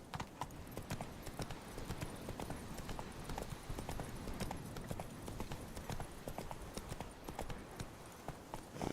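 Horse hooves clip-clop steadily in The Witcher 3 video game, a continuous rhythmic trotting with game ambience behind it and no speech over it.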